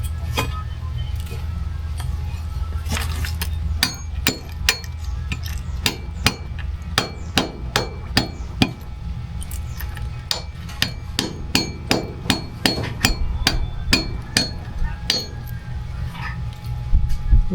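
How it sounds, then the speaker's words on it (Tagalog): Repeated sharp hammer blows strike at an uneven pace while cooking bagungon, some in quick clusters, ringing with a metallic clink over a low background hum. "Martilyo ang gamit natin"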